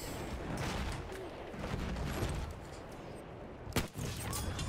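Dense gunfire and explosions from the Battlefield 1 video game on PS4, a continuous loud barrage of overlapping shots with one sharp nearby blast near the end.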